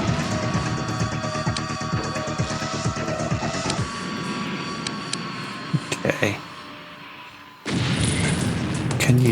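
A grenade explodes in the X-COM Apocalypse strategy game, a loud boom with low rumble and crackling amid game effects, fading before a sharp burst of broadband noise near the end; speech is mixed in underneath.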